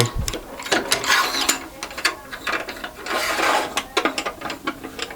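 A table saw's handle is screwed down tight with a rapid run of close, loud ratcheting clicks and grinding metal, continuous for about five seconds with no talk.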